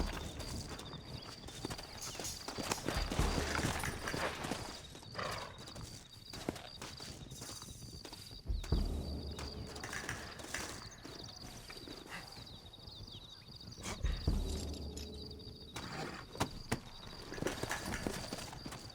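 Horse hooves clip-clop steadily on the ground in the Red Dead Redemption video game, a rhythmic trotting patter under a wash of game background noise and occasional heavier thuds.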